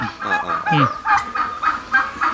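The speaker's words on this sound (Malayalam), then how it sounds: "ടർക്കിയുണ്ട്, കോഴികളുണ്ട്" Turkeys gobble and chickens squawk close by, a busy run of repeated calls throughout.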